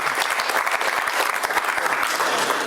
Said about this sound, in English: Give Mark a big round of applause